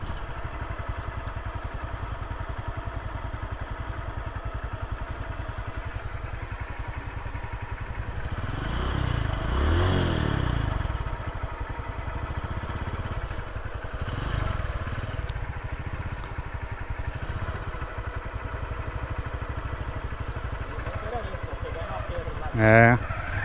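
A low-slung Honda Pop motorcycle rumbles steadily along a narrow, rocky dirt road in Brazil, its engine droning throughout with a louder swell midway and a sharp clatter near the end, while riders talk over the engine noise.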